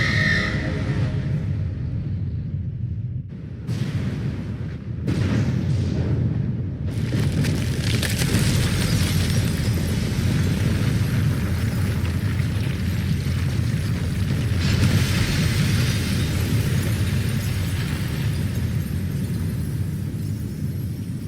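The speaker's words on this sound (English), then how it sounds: "Last big crystal destroyed." A large crystal is destroyed in the video game Final Fantasy XVI, with a loud, sustained rumbling blast following a few sharp bursts, and the roar carries on steadily for many seconds.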